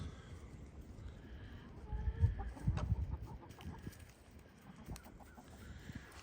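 Chickens clucking at close range on a farm, with soft, scattered cackles rising over a steady outdoor background and fading toward the end.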